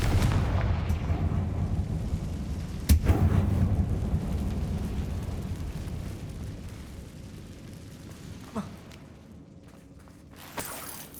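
A fire-spell blast from Hogwarts Legacy: a deep, rumbling boom around three seconds that swells into a long roaring rumble and slowly fades, followed by a couple of smaller sharp hits later on.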